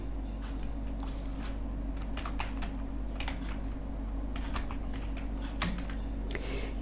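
Continuous keyboard typing while text is entered in a Canva design tool, with steady soft key clicks running throughout over a constant low hum and no speech.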